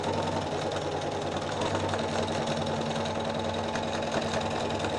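A sewing machine runs steadily as it stitches a seam down the middle of a piece, a dense, continuous mechanical whir at an even level with no pauses.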